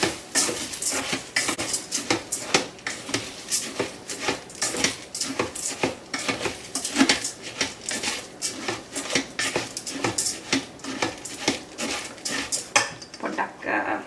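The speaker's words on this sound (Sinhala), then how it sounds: "දැන් අපි මේ හාල් ටික විනාඩි 5ක් විතර අපි මේ තෙල් එකේම බැද ගන්න" Rice grains frying and being stirred in oil inside a rice cooker pot, with steady scraping and clinking of a utensil against the metal bowl in a repeated rhythm, close and fairly loud, no talking.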